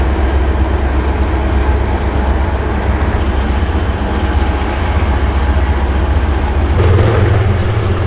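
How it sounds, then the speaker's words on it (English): A passing train rumbles loudly and continuously nearby, a dense steady roar of wheels and rail noise that swells slightly near the end, with no voices. "And check out this train."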